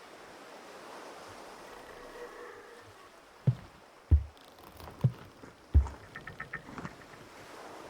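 Wind rushes steadily outdoors as a soft, broad hiss, then several heavy gusts buffet the microphone in low thumps midway through, with no talk.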